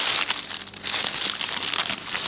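Knife cutting through a beef BFF burger from Burger King, heard as a close, continuous crinkling and crunching of bun, wrapper and fillings lasting a couple of seconds.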